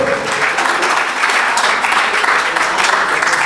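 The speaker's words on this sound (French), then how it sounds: "On applaudit, mesdames et messieurs." An audience applauds a speaker at the close of a French-language entrepreneurship conference talk, steady dense clapping filling the room throughout.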